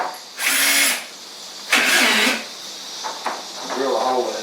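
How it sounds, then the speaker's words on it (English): Two loud bursts of a power drill whirring, each about half a second, separated by pauses, with a voice speaking between and after them. "Drill a hole in it."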